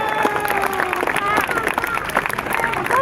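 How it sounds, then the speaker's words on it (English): Crowd at a police open day dog show applauds police dog Jed, a dense, steady burst of clapping and cheering from a large outdoor audience, with voices mixed into the noise throughout. "Big round of applause for police dog Jed."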